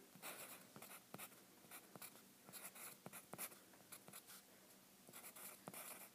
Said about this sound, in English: I'm going to write my goal above it.